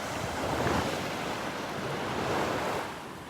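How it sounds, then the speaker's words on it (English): Gentle ocean waves wash in at a beach in North Naples, Florida, a steady broad surf hiss swelling twice in soft surges, with light wind buffeting the microphone. "The waves gently rocking you."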